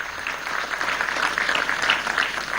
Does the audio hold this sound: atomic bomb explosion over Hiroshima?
no